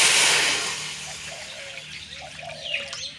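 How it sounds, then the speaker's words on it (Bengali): Water poured into a karai on a lit village stove before making sugar syrup for pitha, a short gush that fades into a soft trickle with faint bird chirps in the background and no talking. "একটু জল দিয়ে দেব।"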